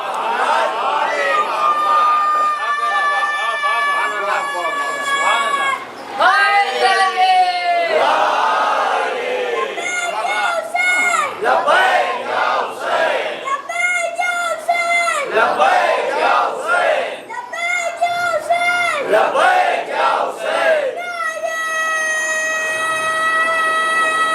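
Children chant slogans in loud, rhythmic unison at a Shia majlis, with crowd voices answering in repeated call-and-response phrases that fill the space throughout.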